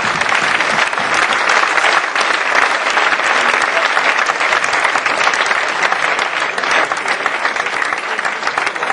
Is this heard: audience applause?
yes